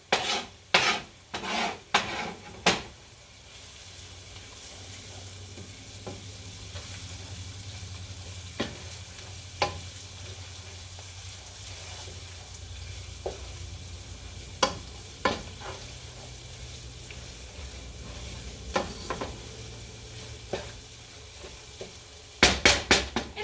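Freshly minced garlic in a pan of homemade Italian pasta sauce, with a low, quiet sizzle under repeated sharp scrapes and taps of stirring, busier at the start and end.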